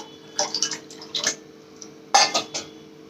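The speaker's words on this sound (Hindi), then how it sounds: "अब इसमें ठंडा पानी मिलाएंगे," Cold water is poured and mixed into flour dough in a home kitchen, giving soft splashes and clinks of a vessel in a few short bursts with quiet gaps between.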